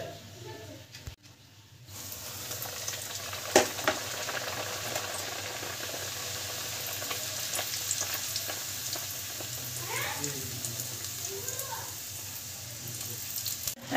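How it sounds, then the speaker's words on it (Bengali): Pea kochuri deep frying in hot oil, a steady close hiss of bubbling oil with a few clicks and faint background voices, quieter for the first two seconds. "এবার ভেজে নেব।"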